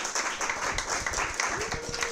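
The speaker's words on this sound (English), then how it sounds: "give a round of applause for the brains of our operation, Renee Ramos" Guests at an archive's 40th anniversary celebration give brief, moderate applause, a mix of many hands with scattered voices faintly underneath.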